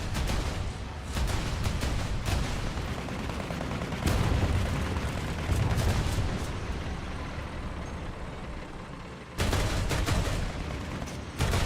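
Tank cannon and machine-gun fire in War Thunder, played with Chinese tanks at rank 5.7. Sharp bursts of shots come in clusters over a constant engine rumble, with louder blasts near the middle and again toward the end.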